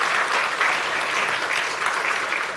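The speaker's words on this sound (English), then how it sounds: "one more round of applause for the fantastic panel here" Steady, dense applause from a conference audience thanking a panel at an African urban forests forum, sustained and fairly loud throughout with no pause.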